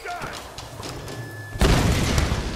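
Explosion in the Tomb Raider video game during a plane crash sequence: a sudden loud broadband blast erupts midway and roars on to the end, following quieter game noise with a faint tone.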